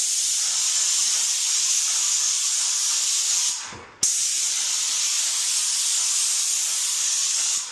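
A paint sprayer applies primer to new drywall with a loud, steady hiss that fills the space, cutting out briefly near the middle before resuming just as strongly, with no voices.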